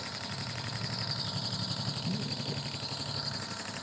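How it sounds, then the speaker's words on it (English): A small old iron engine runs steadily at idle, a continuous mid-pitched chugging hum with a rapid, even beat, fairly close and with no talk over it. "But that is a pretty little engine"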